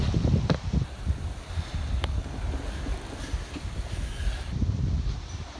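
Steady wind rushing and buffeting on a sailboat running dead downwind under mainsail alone, the genoa taken down, among rocky islands of the Ayvalik archipelago off Turkey; continuous broadband roar with gusty swells and a few sharp knocks, no talk.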